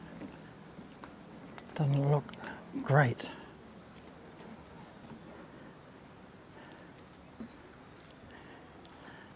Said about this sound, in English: you can hear a couple of cicadas